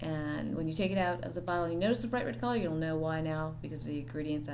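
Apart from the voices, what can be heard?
No everyday noise stands out behind the speech.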